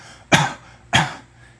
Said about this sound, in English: Coughing. So coughing,